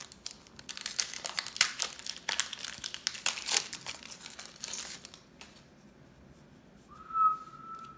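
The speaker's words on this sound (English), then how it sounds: "let me do another whistle" A person whistles a short rising note near the end, after several seconds of crinkling and tearing from trading card booster packs being opened.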